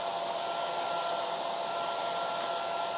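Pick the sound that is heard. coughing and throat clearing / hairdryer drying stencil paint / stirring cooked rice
hairdryer drying stencil paint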